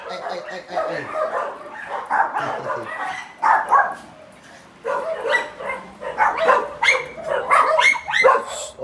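A small dog barks in repeated sharp bursts, close by, with someone talking over and between the barks in a home setting.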